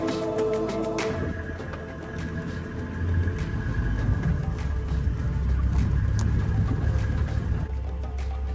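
A safari vehicle drives around on a leopard-tracking trip at Okonjima, Namibia, giving a steady low engine rumble and road noise throughout with rattles and bumps, and no talking.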